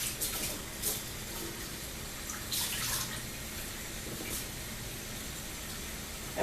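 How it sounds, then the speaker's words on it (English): Regular water poured into a glass jar of sweet tea makes a steady, close, hissing splash that runs unbroken throughout, with a few brighter splashy bursts along the way. "I'm going to take this and just put regular water in there"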